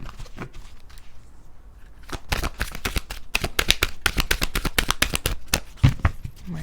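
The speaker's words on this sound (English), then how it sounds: "let's give them one more shuffle." Rapid riffling of playing cards, a dense burst of crisp snaps after a quieter pause, close and loud.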